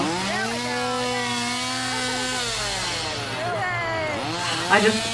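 A chainsaw engine drones loudly and continuously at a Halloween Horror Nights event, its pitch rising and falling as it revs, with a brief burst of voices near the end.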